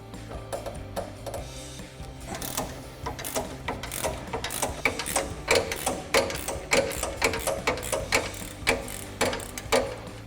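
A socket ratchet clicks in quick, uneven runs while loosening the strut nut on a KONI Sport adjustable shock for a 2015-2024 Mustang, the metallic ratcheting close and steady throughout.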